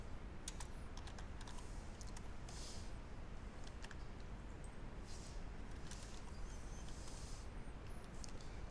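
Quick, irregular bursts of clicks from a computer keyboard, faint and close, tapping out short runs of keystrokes against a quiet room background.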